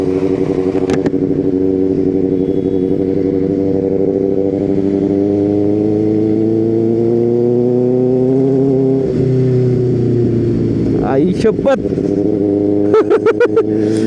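A Kawasaki ZX-6 sport motorcycle engine idles with a deep, steady rumble, then revs up sharply in several quick bursts near the end, with a voice speaking over it.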